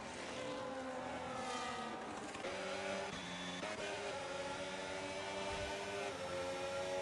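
Race cars, a McLaren and an Aston Martin, battling wheel to wheel in a sim racing game on a Miami circuit, their engines droning steadily with rising and falling pitch through shifts, fairly quiet and with no talk.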